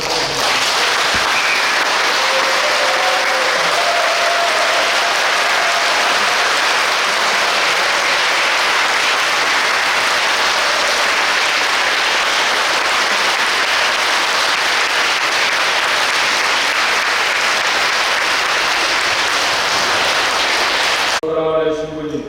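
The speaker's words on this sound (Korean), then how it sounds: "큰 박수를 부탁드립니다." A church congregation at a retirement ceremony for a parish priest in Jamsil 7-dong bursts into sustained, loud applause that fills the hall for about twenty seconds, then cuts off as a voice starts to speak.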